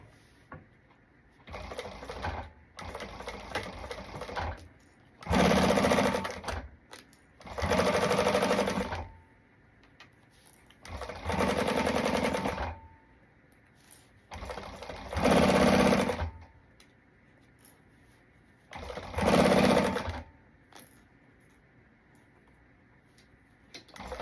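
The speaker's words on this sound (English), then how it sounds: "we're going to go ahead and sew this here at the seam allowance that she gives you" Sewing machine stitching fabric along a seam allowance, running in six loud whirring bursts of a few seconds each with quiet gaps between, close and clear.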